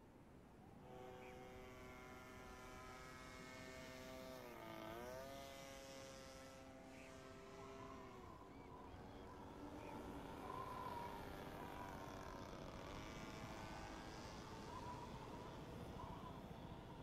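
A propeller airplane drones steadily, its engine tone dipping and rising as it flies, continuous and fairly close throughout.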